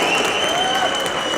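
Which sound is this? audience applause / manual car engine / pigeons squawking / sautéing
audience applause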